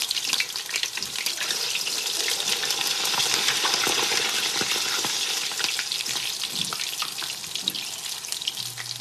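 Food frying in cooking oil on low heat in a pan, a steady close crackling sizzle with scattered pops and light scraping, no voices.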